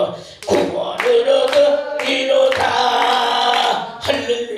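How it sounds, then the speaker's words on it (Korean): Church congregation claps hands in time during a hymn, sharp claps landing every second or so beneath loud singing and accompaniment. "박수"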